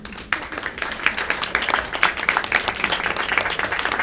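A panel-event audience gives a round of applause for presenters and panelists, many hands clapping steadily and briskly without a break.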